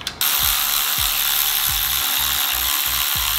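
Timing cover bolts on a Subaru flat-six engine being run down with a ratchet: a steady, close series of clicking pawl strokes repeating at a regular pace, with no talking.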